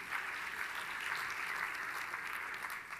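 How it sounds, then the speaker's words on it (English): A presentation audience claps in a dense, even wash of applause, sustained at a steady level, heard from some distance and fairly soft overall. "You can applaud, come on."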